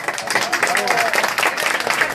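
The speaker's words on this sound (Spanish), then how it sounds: "un aplauso, muchachos." Steady applause from a crowd fills the whole stretch, dense clapping with some voices and cheering mixed in underneath.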